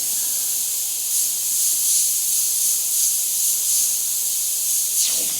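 A battery-powered portable airbrush sprays paint with a steady high hiss that pulses slightly in intensity, close and alone.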